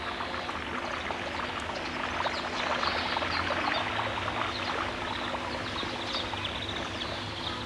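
Water features splash steadily in a pedestrian zone on Prager Straße in Dresden, a continuous broad rushing and spattering wash of fountain water with no talking.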